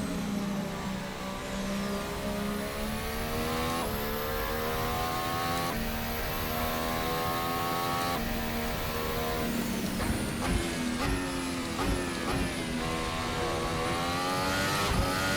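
A Formula Hybrid 2018 race car engine in a racing video game revs hard and climbs steadily through the gears, each pitch rise broken by a quick upshift drop, a loud continuous whine with no talking.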